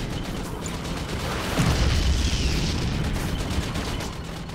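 Orbital dump strike in the strategy game Red Alert 3, a dense roar of rumbling explosions and crackling impacts swelling midway and continuing loud throughout.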